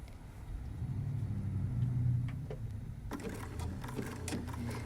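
Sewing machine stitching applique under a clear presser foot, a steady mechanical hum and rumble of the motor with light ticking, changing in character as the stitching continues.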